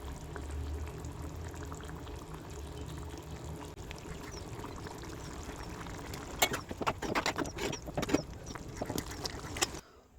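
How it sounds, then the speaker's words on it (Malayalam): Curry made with dried fish bubbles and plops in a pot, a soft rolling boil at first that turns into louder, busier bursts of bubbling toward the end. "അങ്ങനെ ഇത് നല്ല പോലെ തിളച്ച് നല്ല കുറു കുറൂന്ന് ആവും"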